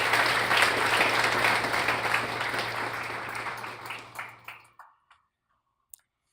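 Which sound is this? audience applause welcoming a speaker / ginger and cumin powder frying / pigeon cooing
audience applause welcoming a speaker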